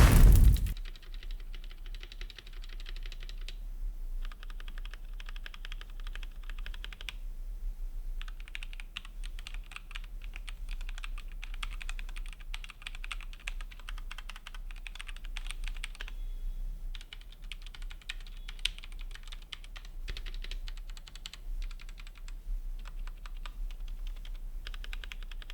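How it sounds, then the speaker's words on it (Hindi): Typing on Kreo Hive and Redragon K552 mechanical gaming keyboards, a steady stream of close, crisp key clacks with brief pauses, after a loud opening thump and with no talking. "दोनों कीबोर्ड का साउंड एक साथ सुनो, हेडफोन लगाकर सुनो तो बेटर समझ में आएगा।"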